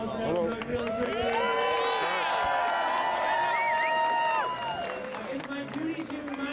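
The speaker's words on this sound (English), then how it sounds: "So if we could all just give a round of applause for Adam Brooke really quickly." A large outdoor crowd at the Hash Bash rally on the University of Michigan campus in Ann Arbor claps and cheers for Adam Brooke, sustained dense applause with whoops on top, tapering off near the end.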